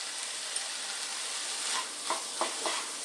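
Potato samosa filling with turmeric, chili, cumin and coriander cooks over low heat, giving a faint steady sizzle broken by several soft spoon scrapes near the end.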